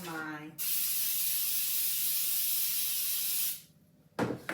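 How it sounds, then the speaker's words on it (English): A continuous aerosol cooking spray hisses into a baking pan for about three seconds, close and steady, then cuts off. "I'm just going to spray down"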